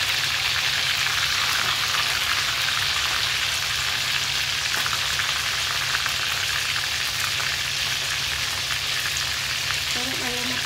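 Galunggong fish frying in hot oil for escabeche gives off a steady, dense sizzle and crackle that continues without a break, close and fairly loud, with no talking over it.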